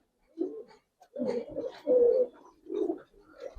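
Giribaz coloring pigeons coo in a series of soft, throaty calls, several bursts rising and falling close by in a quiet space.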